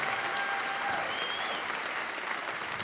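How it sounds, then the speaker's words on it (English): A steady wash of audience applause at a live storytelling event, loud and continuous, many hands clapping together without pause. "I want you to give her a big round of applause, even bigger."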